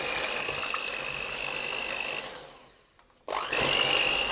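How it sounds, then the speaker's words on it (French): An electric hand mixer whips cold whole liquid cream and mascarpone in a bowl, a steady loud whirring drone that cuts out briefly near the end, then starts up again at full speed. "vous mélangez directement avec les fouets du batteur, comme ceci là rapidement"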